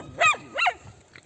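Stray dogs near a town bark twice in quick succession, loud and fairly close, the two sharp barks followed by quiet background.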